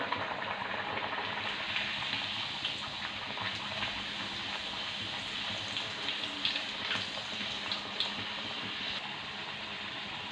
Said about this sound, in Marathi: आपण आहे ना उलटपालट करून आपली ही पुरी ना मस्त तांबूस रंगावरती तळून घेतलेली आहे